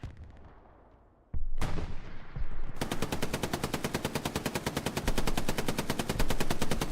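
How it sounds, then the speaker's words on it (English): Twin machine guns hammer from boats on the Omaha beach map of the World War II shooter Hell Let Loose, a sudden onset followed by long, rapid, relentless bursts of fire, loud and close. "Double MGs on the boats."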